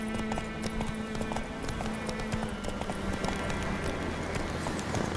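Roach the horse gallops in The Witcher 3: Wild Hunt, a steady rapid run of hoof clip-clops over a constant background bed, with no voices.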